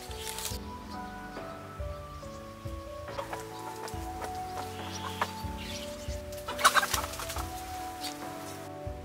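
Chickens cluck and call at a rural family home, with repeated close clucks, a louder burst near the end, and faint background noise.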